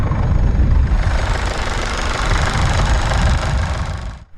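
A 2016 Infiniti Q50 2.2d with a Mercedes-sourced 2.1-litre inline-four turbodiesel cranks and fires up, settling into a loud, close, clattery diesel rumble before cutting off abruptly at the end.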